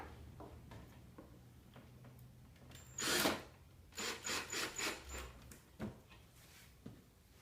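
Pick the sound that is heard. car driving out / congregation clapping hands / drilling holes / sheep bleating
drilling holes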